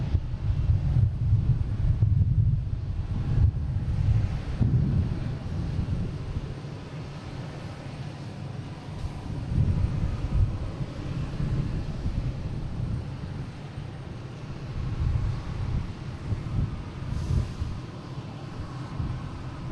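A Cape Air Cessna 402 twin-prop bound for Nantucket, heard at Boston Logan, gives a low, wavering rumble in the distance. The drone swells and fades under steady wind buffeting the microphone.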